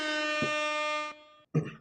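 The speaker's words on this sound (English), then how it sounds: "double up the air horn. I got an air horn too." An air horn blares a long, loud, steady tone and then cuts off, followed by a short thump and a brief burst of noise.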